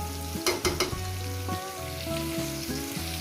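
Chicken pieces fry in a pan for a home-style chicken curry, giving a steady sizzle with several sharp crackles early on and tonal hum-like lines underneath, all without any talk.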